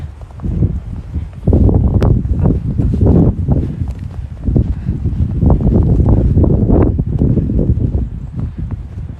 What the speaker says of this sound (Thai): ลมตีหิมะขึ้นมาไม่ก็ตีหิมะลงมาจากหลังคาอะไรเงี้ย